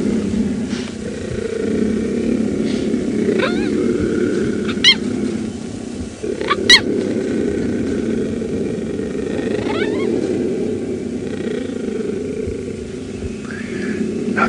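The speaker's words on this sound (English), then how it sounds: "Cheetah do have such strange vocalizations." Cheetahs give several short, high squeaks and chirps during a sunrise safari drive, scattered over a steady low rumble of a vehicle engine and wind.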